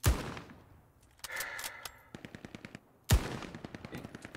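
Automatic weapon fire in the World War II shooter Hell Let Loose: a loud opening burst, then a sharper rapid string of evenly spaced shots, and a second heavy burst near the end, all close and without talk.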